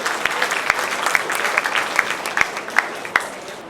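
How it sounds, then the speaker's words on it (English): Applause at a college award ceremony as certificates are presented, a modest crowd clapping steadily, with a few sharp, rhythmic claps standing out near the microphone. "Give them a big round of applause."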